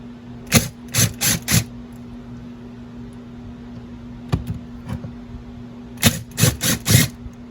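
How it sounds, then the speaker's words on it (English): An impact driver removes Phillips keeper screws on a 1996 Yamaha YZ125 two-stroke engine, giving two quick clusters of four sharp rattling bursts separated by quiet, with a single faint hit in between. "If you're going to use an impact like I just did on these, make sure you have good force going forward"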